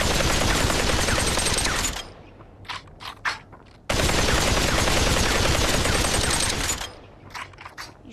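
A gun fired in the VR game Population: One, with two long bursts of rapid automatic fire separated by quieter gaps filled with mechanical clicks and clunks.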